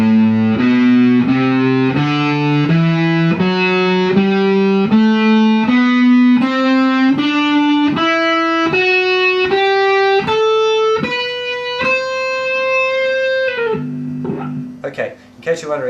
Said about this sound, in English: So, of course, when we're finger tapping, we only need 3 notes.